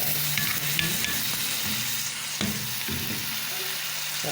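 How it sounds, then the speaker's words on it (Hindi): Rice being stirred into sugar in a cooking pot while making zarda, with steady sizzling and scraping strokes that stay close and continuous, with no talking. "और अब इसमें मैं चावल डाल के अच्छी तरह मिक्स करूँगी"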